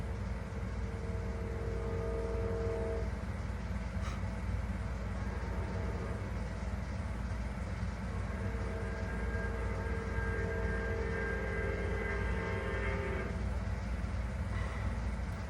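Train passing outside: a steady distant rumble with sustained tonal whines that rise and shift over about fifteen seconds, heard alone without talk.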